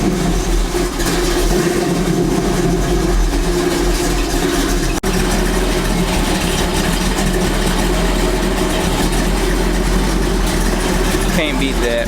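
A Ford engine with an Edelbrock AVS2 carburetor warms up, a steady loud idle rumble with low mechanical drone holding evenly throughout, close to the microphone.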